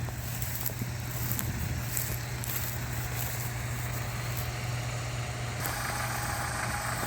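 A GAZ truck engine idles in a steady, unbroken rumble, close and loud throughout with a constant low drone and no talking.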